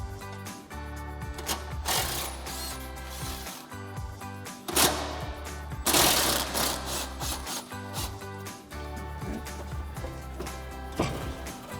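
An impact wrench with a 13 mm socket removes bolts from a Barricade HD plate-style rear bumper on a 2021-2024 Ford Bronco, in close, rattling, hammering bursts between quieter gaps, with no one speaking.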